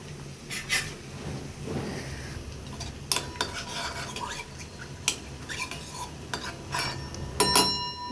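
A spoon stirring a watery paste of turmeric, cumin and coriander in a small bowl for a chickpea curry, irregular clinks and scrapes against the dish, close and fairly quiet.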